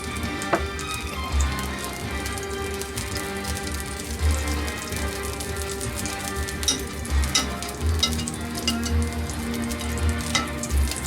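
Bacon fat sizzles steadily in a frying pan, ready for frying eggs, a continuous crackling hiss with small pops and light clatter, close and fairly loud with no talking.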